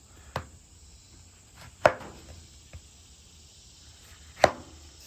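Knife cutting washed oranges into quarters on a board: three sharp, distinct chops spaced a second or more apart, with a quieter tap between, all fairly close and clear.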